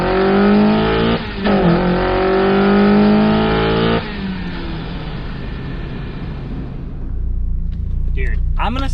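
Mazda Miata on nitrous accelerating hard, its engine note climbing loudly through the revs before a gear change, then easing off into a lower rumble, heard from inside the car.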